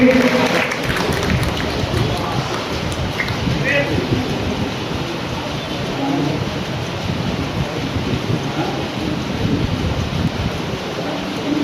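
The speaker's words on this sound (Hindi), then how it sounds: "जोरदार तालियों के बीच हमारे मेहमान का इस्तकबाल करेंगे।" A crowd gives loud, sustained applause for a guest being welcomed onto the stage at an educational and welfare society's tenth-anniversary celebration, dense clapping without a break from start to finish.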